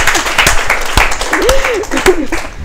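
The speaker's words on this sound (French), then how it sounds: "Il faut applaudir pour la timidité." Short burst of audience clapping, sparse and uneven, with a voice talking over it.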